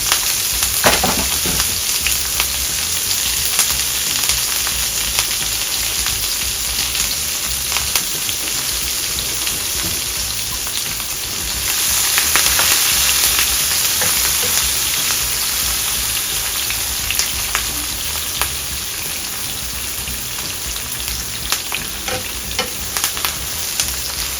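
Seasoned fish and onions fry in a pan for Jamaican brown stew fish, a loud, continuous close sizzle and crackle with occasional stirring scrapes, and no talking.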